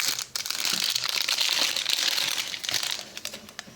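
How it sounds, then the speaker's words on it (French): Crinkly packaging torn and crumpled open from around a rose-shaped soap, close-up rustling and crackling in busy bursts with short pauses. "il faut déballer la rose"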